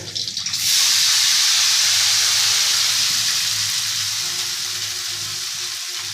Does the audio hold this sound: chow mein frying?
yes